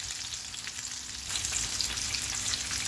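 Raw mince ball-shaped kebabs frying in a heated pan at home, a steady close crackling sizzle that grows louder and denser partway through, with no talk.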